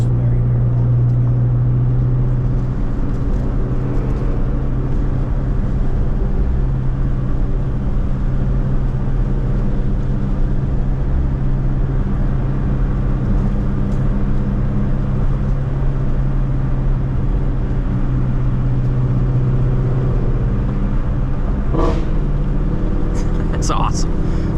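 A twin-turbo Shelby GT350 with a Tremec manual gearbox drones loudly and steadily throughout, the engine and exhaust rumbling under continuous cabin road noise, with a brief rise near the end during rev-matched downshifts.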